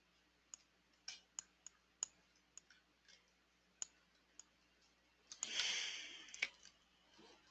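Computer mouse clicks: around a dozen sharp, close, separate clicks spread unevenly over several seconds, followed by a brief burst of soft rustling or handling noise, with no talking.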